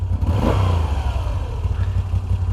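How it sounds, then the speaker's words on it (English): Moto Guzzi V7 III Special engine revving as the throttle is blipped, a mid-pitched rising and falling rev over a steady close idle rumble. "I'm talking about the engine rocking from side to side every time you blip the throttle"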